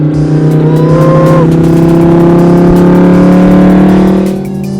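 A very loud supercar engine at a supercar rally, roaring close by with steady revving and a brief rising whine partway through, holding at full volume for most of the clip.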